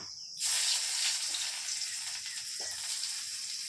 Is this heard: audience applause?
no